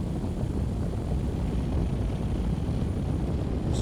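A Suzuki V-Strom 1050 XT motorcycle engine accelerates under load, a steady, dense low drone mixed with wind rush that holds constant and close for a few seconds.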